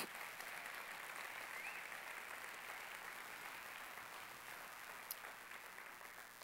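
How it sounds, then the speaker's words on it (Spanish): Congregation clapping in a church service, a fairly quiet but continuous patter of many hands that stays steady throughout, with a single sharper clap standing out near the end. "Vamos a darle un aplauso a Dios."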